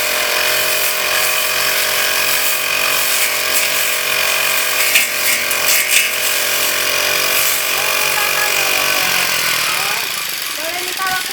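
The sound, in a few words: machine cutting grass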